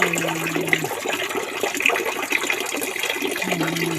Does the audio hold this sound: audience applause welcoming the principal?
no